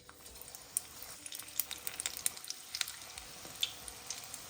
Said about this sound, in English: the oil is now ready for the frying of the cauliflower